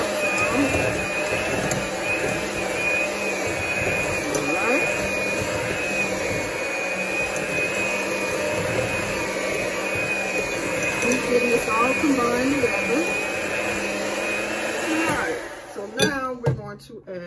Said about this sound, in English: I'm going to cream this together, the butter and the sugar